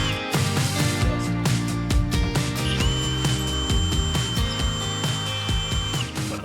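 A power drill bores the second bolt hole through part of a boat, a loud continuous grinding whir with a steady high whine and small uneven surges, close up and with no talk.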